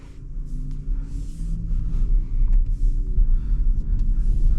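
Cabin of a 2024 Porsche Macan 4 Electric on the move in sport mode, with a steady low road rumble and tire noise running continuously and close.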